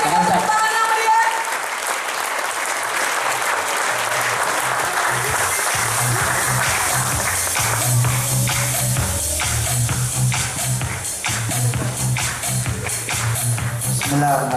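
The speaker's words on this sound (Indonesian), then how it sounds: "Kita berikan tepuk tangan yang meriah" An audience at a motivational seminar welcomes Ustadz Yusuf Mansur with sustained, dense applause that fills the room evenly from start to finish, a voice faintly audible at the very beginning.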